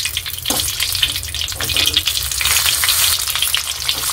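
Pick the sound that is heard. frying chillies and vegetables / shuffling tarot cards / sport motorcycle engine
frying chillies and vegetables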